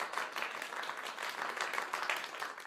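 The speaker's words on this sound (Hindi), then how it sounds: "इस उपलब्धि के लिए तालियां तो बजनी ही चाहिए।" Applause fills the short stretch, a dense, steady patter of many hands clapping at moderate volume with no voices over it.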